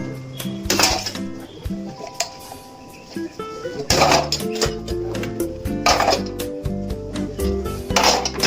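Steel utensils and dishes being washed at a kitchen sink, with repeated close metallic clinks, clatters and ringing tones scattered irregularly over running water.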